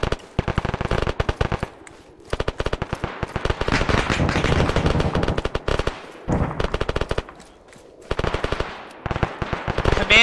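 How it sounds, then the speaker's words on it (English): Sustained autocannon fire in the Arma military video game, rapid loud bursts of heavy automatic shots in long strings with brief pauses, close and dominant. "We're getting lit up by some auto cannon."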